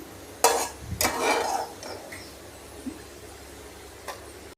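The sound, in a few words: fried bitter gourd pieces moved into a bowl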